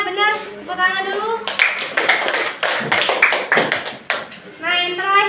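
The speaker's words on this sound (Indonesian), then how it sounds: "Tepuk tangan dulu." A class claps together in a teaching simulation, a short burst of brisk hand clapping between stretches of speech.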